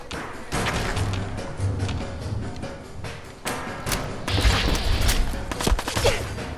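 Rapid gunfire in the video game Fallout 4 during a fight with raiders at a car assembly plant: repeated bursts of shots and thuds, some near and sharp, some fainter, packed across several seconds of combat.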